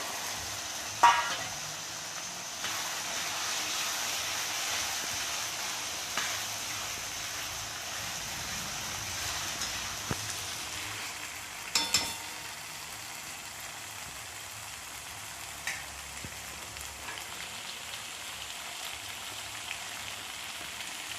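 Onion-tomato masala for aloo matar sautés in oil in a pan, giving a soft, steady crackling hiss throughout with a few faint clicks of a spoon.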